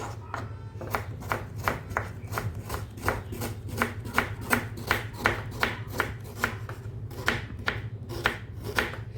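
A knife slicing onions thinly on a board, producing a steady run of close, evenly spaced cutting taps over a low background hum, with no talking.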